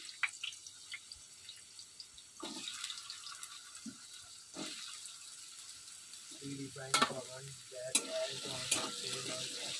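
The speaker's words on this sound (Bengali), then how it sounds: "তাই জন্য এবার আলুগুলো ভেজে নিই" Potatoes fry in a pan with a soft, low sizzle, punctuated by scattered clinks and scrapes of a utensil that grow busier toward the end.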